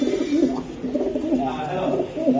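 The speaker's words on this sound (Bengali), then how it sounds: "কবুতর" Racing pigeons coo in a low, rolling warble, repeating several times close by with a steady murmur underneath.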